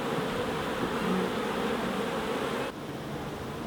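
Honey bees crowd the entrance of a beehive with hundreds flying in and out, a steady dense buzzing drone that continues throughout, dropping slightly in loudness near the end.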